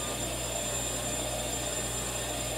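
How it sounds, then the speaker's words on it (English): A vacuum cleaner runs steadily while a bedroom is being cleaned, giving a continuous, even whir from start to finish with no talking. "And then just pass the vacuum."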